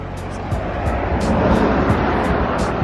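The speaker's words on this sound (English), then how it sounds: "I apologize for the road noise." Steady broadband rumble of passing road traffic, loud and continuous with a few brief swells, no voices.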